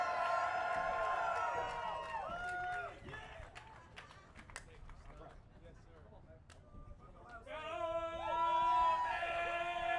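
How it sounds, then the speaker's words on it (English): A live show crowd cheers and yells with whoops and some clapping, the noise swelling loud at the start and end and dipping in between. "I want you guys to make some noise for these dudes."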